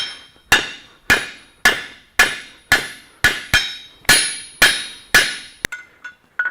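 A hammer strikes hot metal on an anvil, drawing out a long taper, with about eleven sharp ringing blows at a steady rhythm, each decaying quickly, followed by a few lighter taps at the end.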